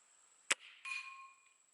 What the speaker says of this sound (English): now we're hitting the center of the gong at 50 yards